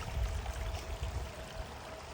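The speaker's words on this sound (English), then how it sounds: "water is just gushing out of the mountain. It is flowing directly onto the trail." Water gushes out of a mountainside straight onto a hiking trail, a steady, full rushing pour heard close and continuous without a break.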